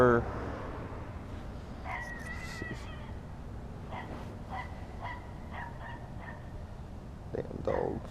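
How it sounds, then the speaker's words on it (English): Small dogs yip and whimper in short bursts at a moderate distance over a steady background hum, with brief high-pitched cries scattered through and more near the end. "damn dogs."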